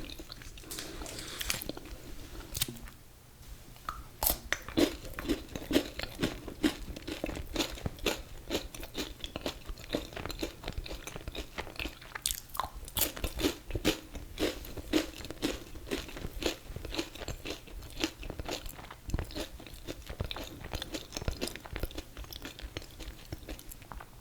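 Hard cinnamon-flavored Halloween candy crunched and chewed up close, with steady crisp crackling bites and wet mastication running continuously and fairly loud throughout, no talking.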